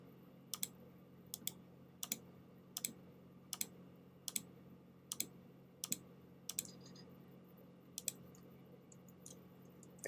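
Computer keyboard keys clatter during a Minecraft session, sharp individual clicks and short bursts about once per second over a steady low hum, close and fairly quiet.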